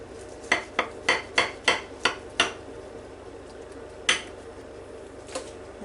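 A knife cuts into a baked peach puff pastry, giving a quick series of about seven crisp, evenly spaced taps and clicks against the plate, then one more tap after a pause, close and fairly quiet.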